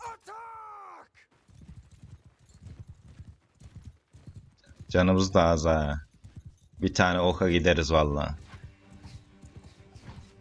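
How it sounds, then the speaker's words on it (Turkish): Horse hooves clip-clopping at a riding pace in the video game Mount & Blade II: Bannerlord, a steady close rhythm of hoofbeats with a brief whinny at the start, while someone talks over part of it. "Atı şöyle sağlı sollu sürüm ki."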